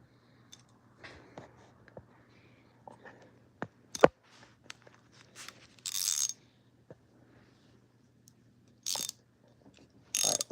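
A ratchet wrench working on a Plymouth engine gives sparse clicks and metallic taps, followed by a few short, harsher ratcheting bursts, close and fairly quiet.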